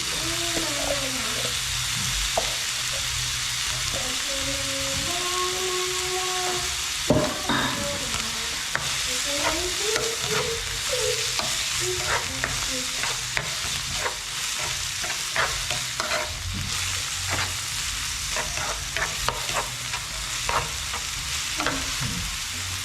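Diced eggplant sizzles in a frying pan with a steady hiss while a utensil scrapes and taps against the pan, close up, with a brief voice early on over the frying.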